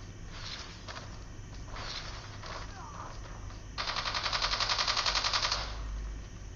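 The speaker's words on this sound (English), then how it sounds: "Wow, a bot uses a shotgun." Rapid automatic gunfire bursts in a video game, a short cluster near the start and a louder sustained burst later, over steady game background noise.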